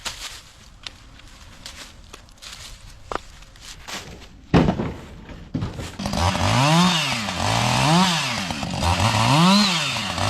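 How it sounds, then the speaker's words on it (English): A chainsaw cutting firewood starts up after scattered thumps and footsteps, then runs loud and close with rising and falling revving as the chain bites through the wood in repeated strokes. "let me cut some firewood."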